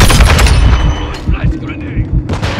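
A loud, booming grenade blast in Call of Duty: Modern Warfare II hits right away, then rumbling debris and scattered gunfire follow close by, with some talk over it.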